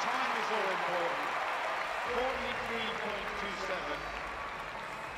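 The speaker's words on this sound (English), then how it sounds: "the crowd can give themselves a round of applause" Crowd applause fills a Paralympic athletics stadium at London 2012, steady and sustained throughout, with a commentator's voice speaking over it.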